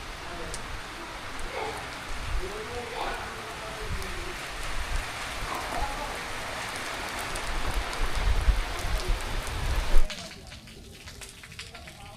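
Heavy rain pours down in a dense, continuous hiss with pattering on surfaces, swelling toward the end before easing abruptly, and a voice speaks faintly beneath it.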